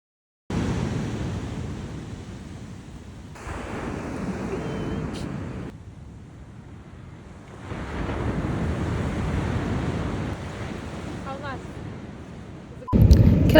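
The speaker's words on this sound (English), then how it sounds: "I can hear the beach." Ocean surf breaking on a beach, a steady wash of waves mixed with wind buffeting against the microphone, rising and falling in long swells, with a sharp clatter at the end.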